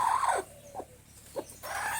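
Hens clucking and squawking close by, including a spotted hen and a white spotted hen, a loud burst at the start, a few short clucks in the middle, then another loud run of calls.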